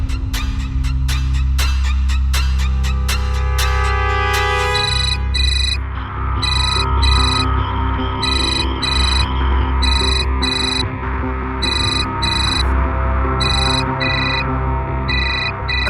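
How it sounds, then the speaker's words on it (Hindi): A phone ringtone rings on unanswered. It opens with descending chime-like tones, then settles into repeated, evenly spaced bursts of a bright electronic ring pattern over a steady low hum. "कम ऑन सोनी, उठाओ फोन।"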